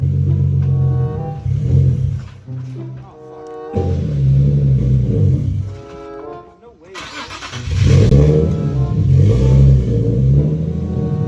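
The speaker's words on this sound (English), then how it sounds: "If you ever wanted to make your VQ sound cam, take off this hose right here" A Nissan G37 VQ engine with its intake hose removed revs in bursts, loud and close, with throttle blips rising and falling and a short lull midway; a person talks over it.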